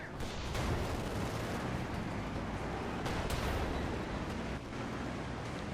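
A tank firing a HEAT round in the WWII strategy game Company of Heroes 2, part of a dense, continuous barrage of gunfire and blasts with sharp bursts standing out near the middle, loud and unbroken, with no talk.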